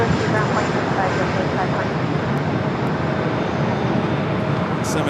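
KLM Boeing 787-9 Dreamliner taking off at LAX, a steady broad engine roar heard from a distance that holds loud throughout, with faint background noise.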